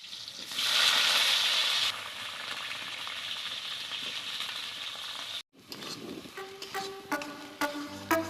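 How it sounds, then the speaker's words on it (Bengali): Meat curry fries on a clay stove with a loud, close, steady sizzle, then a sudden cut is followed by softer frying crackle and scattered metallic clinks of a utensil against the pot. "তোমরা দেখো কি সুন্দর মাটির উনুনে পিসি রান্না করছে"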